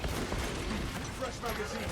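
Heavy bolt pistol fire in the video game Warhammer 40,000: Space Marine 2, a quick volley of booming shots amid battle noise, close and loud over two seconds.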